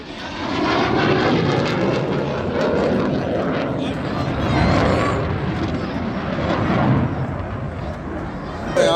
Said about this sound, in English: an F-16 pilot ejects from their fighter jet moments before it crashes near March Air Reserve Base